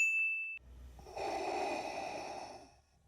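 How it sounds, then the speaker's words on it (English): Darth Vader's mechanical respirator breathing, a hissing, steady rasp that swells and fades once, follows a short high electronic tone; close and alone, with no talk. "the sound of someone breathing is one of the most iconic sounds in cinematic history"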